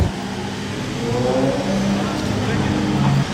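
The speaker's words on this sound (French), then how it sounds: "On l'a entendu accélérer quand même." A Pagani Zonda LH sports car engine revs up and accelerates, a steady loud roar rising in pitch over a few seconds, in Monaco.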